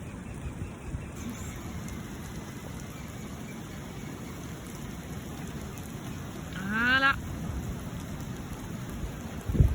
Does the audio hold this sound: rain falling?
yes